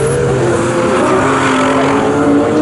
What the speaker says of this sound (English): Here comes our leader down the start-finish straight